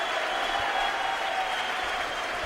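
A rugby league crowd at Leigh's home ground applauds a try against Fulham, a sustained broad wash of clapping from a distant stand that holds steady and fades slightly at the end.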